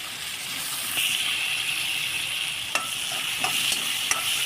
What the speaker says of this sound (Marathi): ते सर्व तेलामध्ये व्यवस्थित परतून घ्यायचं भाजून घ्यायचं आहे